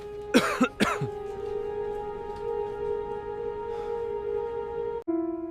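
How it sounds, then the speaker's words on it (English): Two sharp coughs in quick succession over a steady droning tone, followed by several seconds of the hum alone. "a persistent cough began to appear"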